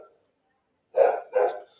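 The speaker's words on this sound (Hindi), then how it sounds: "ये जो कुत्ता भौंक रहा है" A dog barks twice in quick succession, two sharp, fairly close barks separated by a short gap, following a brief faint sound and near-silence.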